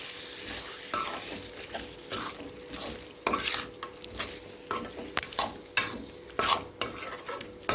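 Ground masala being stirred into chicken gravy in a pan, with repeated scraping and clattering spoon strokes over a low sizzle, close and fairly loud.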